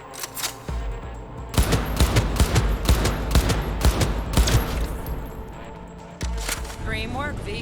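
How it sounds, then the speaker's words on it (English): Gunfire in the video game Cyberpunk 2077: dense bursts of rapid shots and a volley of cracks from a firefight, loud and near, with short pauses and someone talking over part of it. "Oh, the gun sounds so good."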